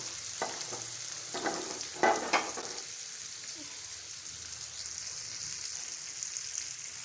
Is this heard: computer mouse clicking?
no